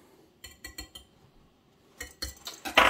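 Utensil clinking and scraping against a bowl while mixing a grated potato batter for potato galettes, a run of four quick taps, a pause, then a louder cluster of knocks toward the end.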